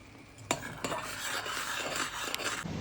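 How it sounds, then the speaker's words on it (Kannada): Flax seeds and fenugreek simmer in a pot on the stove, giving a low bubbling hiss broken by a few sharp metallic clinks and scrapes of a stirring spoon against the pot, close and fairly quiet with no talking. "ನಾನು ಫ್ಲಾಕ್ಸ್ ಸೀಡ್ಸ್ ಹಾಗೂ ಮೆಂತೆಯನ್ನು ಕುದಿಸ್ತಾ ಇದ್ದೇನೆ."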